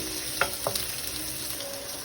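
Onions sauté quietly in a pan for Indo-Chinese idli manchurian, a soft continuous sizzle broken by a couple of brief clacks from stirring.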